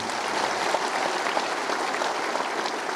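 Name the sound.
audience applause for the chief minister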